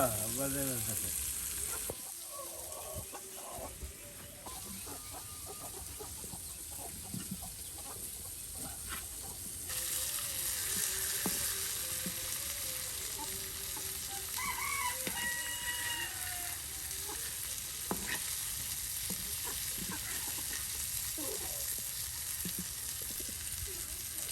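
Big tilapia frying in oil in a village pan gives a steady sizzle and crackle, with a rooster crowing and chickens clucking nearby, some faint voices in the background.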